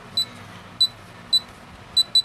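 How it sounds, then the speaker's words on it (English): A La Gard 39E safe lock keypad gives short electronic beeps: five brief, bright, high-pitched tones at irregular intervals, the last two in quick succession, close and clear over a quiet background. "letting go once it gives us that confirmation beep"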